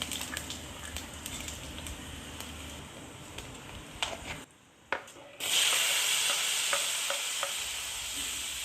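Tadka of asafoetida, cumin, mustard seeds and crushed whole coriander sizzling in a pan, a steady crackling hiss with scattered pops and stirring, a brief drop in the middle before the sizzle surges louder, close, no talk.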